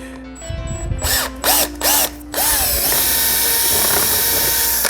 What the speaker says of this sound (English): drill them out. Whew. This is the fun of working close to these little skates. We'll drill that one in a second.